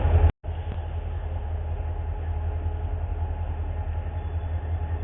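A train passes close by a crossing with a heavy, steady low rumble and rolling rail noise, loud and continuous after a brief dropout near the start.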